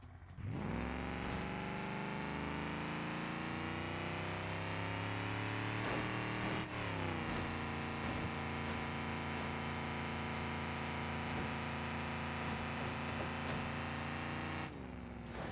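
Stock demolition derby truck in BeamNG.drive held at full throttle, its engine droning loud and steady as it revs up through rising gears, with a brief shift midway before continuing at high pitch until cutting off at the end.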